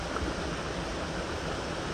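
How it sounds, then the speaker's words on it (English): A waterfall on the Appalachian Trail near Falls Village pours steadily, a dense, continuous broadband rush with no pauses and no voices. "First cool thing is this waterfall."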